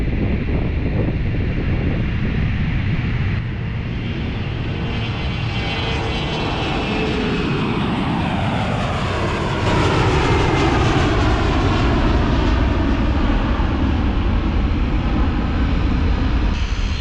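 A fixed-wing airliner takes off from the short runway at London City Airport, its engines giving a loud, sustained roar that swells and shifts in pitch as it passes and climbs. Wind buffets the microphone and no one speaks.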